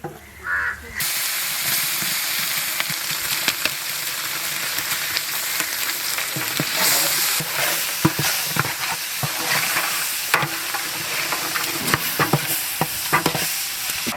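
Curry leaves with ground onion and tomato masala fry and are stirred in a pan in a village kitchen for butter chicken, a continuous crackling sizzle with scraping stir strokes, while crows caw in the background.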